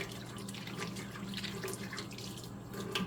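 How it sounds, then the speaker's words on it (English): A skillet being washed under a running kitchen tap, with water streaming and splashing steadily against the pan and sink throughout, alone and close. "I am going to finish washing this skillet"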